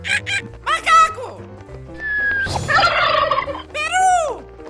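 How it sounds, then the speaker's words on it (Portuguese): A turkey gobbles in several loud, rapid bursts, its throaty rattling calls close and clear amid a cheerful musical backing, with a short whistle-like tone between calls. "Peru!"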